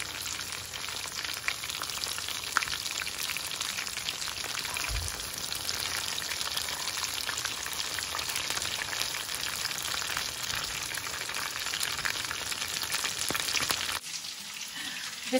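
Potato, pea and cheese balls fry in hot oil, giving a steady, close, dense sizzle and crackle that holds evenly throughout, then drops off abruptly near the end.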